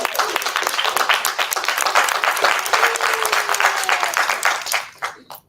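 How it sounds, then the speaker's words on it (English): A live audience breaks into applause at an evening talk event, dense, loud clapping that holds steady for several seconds before thinning out and fading near the end. "Give him a round of applause."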